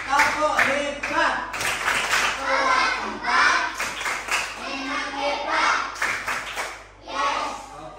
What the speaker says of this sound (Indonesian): beri tepuk tangan buat semuanya